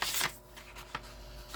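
A folded paper greeting card slid into an envelope: a brief papery scrape at the start, then a few soft rustles and light taps, close and quiet with no talking.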